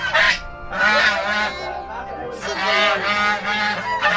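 Loud, nasal honking calls from several ducks close by at Dimbhe Dam, repeating in bursts that overlap one another.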